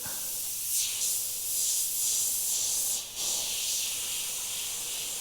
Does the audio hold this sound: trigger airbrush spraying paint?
yes